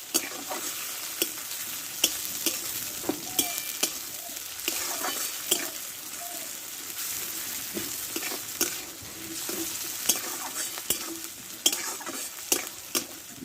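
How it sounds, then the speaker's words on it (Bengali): Ginger paste and chopped tomato sauté together in a hot pan with a continuous loud sizzle, and a spatula repeatedly scrapes and clacks against the pan in an uneven rhythm. No talking. "আর দেবো একটা টমেটো কেটে রেখেছিলাম দিয়ে একসঙ্গে এটা কষে নেবো ভালো করে"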